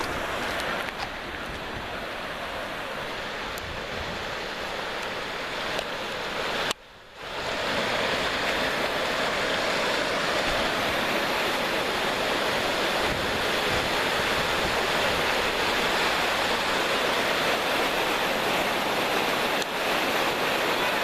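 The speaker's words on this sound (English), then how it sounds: "It's like a water main broke." Floodwater surging from a broken water main, a loud, steady, broadband rush with a brief dropout, close by with no voices over it.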